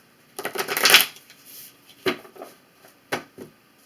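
Tarot cards being shuffled in quick riffling bursts, one long shuffle followed by two shorter ones, close and crisp against quiet surroundings.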